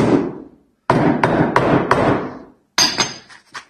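A hammer tapping staples down into lauan underlayment during flooring installation, close and sharp: a few quick knocks, a short pause, then a second burst of taps.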